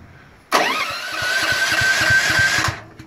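A 9000W generator's engine is cranked with the choke off, a sudden loud mechanical roar breaking in from near silence and churning unevenly for about two seconds before cutting out abruptly.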